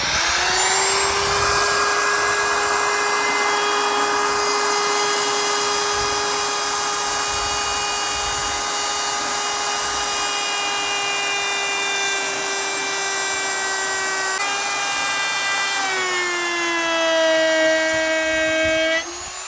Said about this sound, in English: I'm now going to router the edge of this and use it as an additional accent piece.